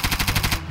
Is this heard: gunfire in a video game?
yes